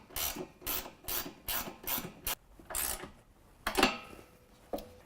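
A 13mm wrench tightens a nylock nut on a hoop step bracket of a GM double cab truck in a quick run of rasping ratchet strokes, about ten close, evenly spaced clicks with brief pauses and no talking.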